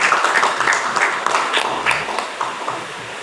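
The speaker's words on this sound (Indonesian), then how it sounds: "Mari tepuk tangan untuk beliau." Applause from an audience at a campus orientation event for new university students, welcoming an alumni speaker; a steady, dense wash of clapping that holds at a fairly even level throughout, without voices.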